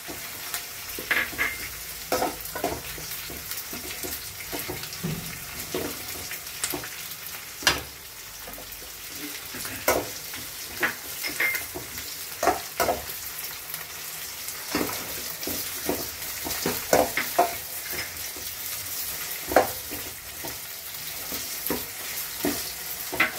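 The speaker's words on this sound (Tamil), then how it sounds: "இப்போ காயெல்லாம் நல்லா வதங்கிட்டங்க." Mixed vegetables for upma sauté in a pan with onions, giving a steady close sizzle. Frequent scraping and tapping strokes from a stirring spoon break through it throughout.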